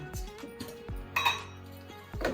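A large spoon clinks against a container while sugar is scooped for dhokla, a few short close metallic taps and chinks separated by quiet handling noise.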